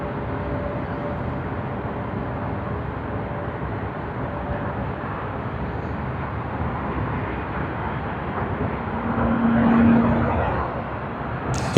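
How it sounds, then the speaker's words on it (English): An Airbus A350-900 airliner arrives at Sydney Airport with a steady distant engine rumble that swells slightly near the end, and a voice speaks over it at times. "Another A350-900, the second A350-900 arriving"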